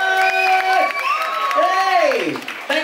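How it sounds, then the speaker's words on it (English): An audience claps and cheers for beauty pageant contestants on stage at the Miss Singapore preview show. The applause is loud and sustained, with whoops and an excited voice carrying over it throughout. "can we give the ladies a big round of applause"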